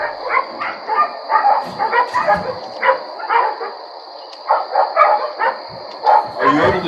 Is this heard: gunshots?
no